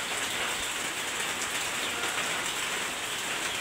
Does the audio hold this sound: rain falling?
yes